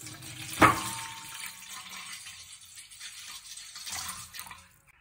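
Running water from a kitchen tap pours into a bowl for soaking eggplant, starting with a sharp splash, then a steady faint flow that swells briefly near the end before stopping.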